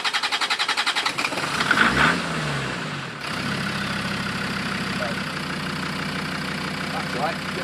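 A Land Rover Discovery 2 diesel engine, just after injector seal work, cranks with rhythmic pulses and then catches, settling into a steady, close idle with a low clattering rumble.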